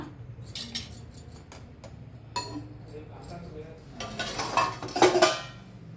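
A lid goes onto a pot of pudina mint rice in a home kitchen, bringing a few light metallic clinks and a louder clatter near the end, with a voice talking faintly in the background.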